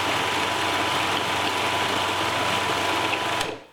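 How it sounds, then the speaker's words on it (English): A blender whizzes romesco sauce ingredients, including olive oil and lemon juice, with a loud, steady motor whine and churning buzz that runs unbroken for several seconds before abruptly winding down. "Lid on and whiz it all together."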